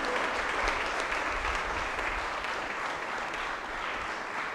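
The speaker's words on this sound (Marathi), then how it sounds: "आपण सर्वजण टाळ्या वाजवून आपल्या या मुलांचं जोरदार टाळ्या" Steady clapping from a church congregation at St. Thomas Church, Sandor, applauding children at their Confirmation, sustained and fairly loud without a break.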